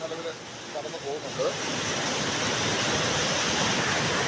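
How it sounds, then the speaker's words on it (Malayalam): Floodwater from a rain-swollen river rushes over the Vilangad town bridge in Kozhikode, Kerala, in a steady, loud broadband roar; a voice is briefly heard at the start before the water noise takes over. "ഇത് ശരിക്കും പാലത്തിന് മുകളിലൂടെ തന്നെയാണ് ഈ വെള്ളം ഫുള്ളായിട്ട് മറിഞ്ഞു പോകുന്നത്"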